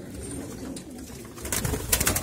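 Soft, low pigeon cooing close by, a repeated throaty murmur with some rustling and brighter noises creeping in toward the end.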